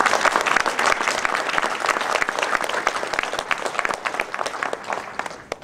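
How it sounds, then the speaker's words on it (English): An audience applauds the Maryland Women's Hall of Fame honorees and their nominators with sustained, close clapping that starts strong and slowly thins toward the end. "Let's give all 6 and their nominators another round of applause."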